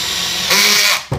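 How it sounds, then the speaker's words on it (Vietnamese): A Stanley cordless drill runs briefly at high speed, loud and close, its whirring motor rising partway through before cutting off abruptly with a short clunk. "Bây giờ mình khoan thử."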